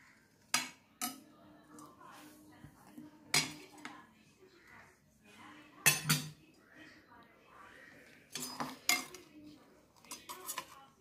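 A knife cuts homemade junnu, a colostrum pudding, in a metal pan, making intermittent close clinks and scrapes against the pan with quiet pauses between the strokes.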